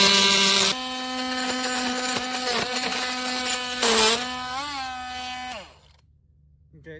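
A Yunirvana oscillating multi tool saws through a 3/8 inch nail in a tight space, giving a loud, buzzing high-pitched whine that wavers under load, then winds down and stops.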